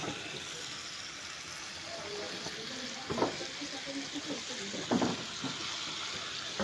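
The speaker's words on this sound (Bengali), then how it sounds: "রোস্ট রান্নার পূর্বেই এই যে মাংসগুলোকে ভালো করে ভেজে নিচ্ছেন।" Meat sizzles steadily in a pan, browned ahead of cooking a roast for a home wedding reception feast, with a constant hiss and a few soft stirring knocks near the middle and end.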